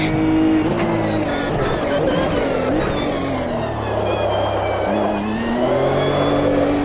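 A race car engine in the sim racing game Automobilista 2 revs and drones loudly and continuously, with pitch rising and falling through gear changes and throttle as the car slides through a corner.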